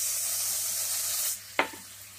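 Spices sizzle steadily in hot oil, then the hiss drops away and a soft plop follows as half a cup of yogurt goes into the pan for a Rajasthani fried gatte curry.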